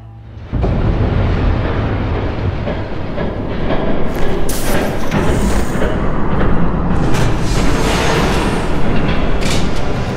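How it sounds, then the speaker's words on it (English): A train approaches, its sound starting suddenly and staying loud with a heavy rumble and rattling, clattering bursts over ten seconds; no one speaks. "There's a train coming."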